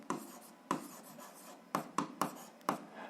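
A pen writing on paper during an algebra lesson, six short separate stroke bursts spaced unevenly, close and fairly quiet with no talk over them.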